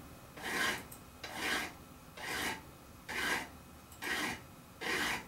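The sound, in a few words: filing a bevel on a guitar fretboard edge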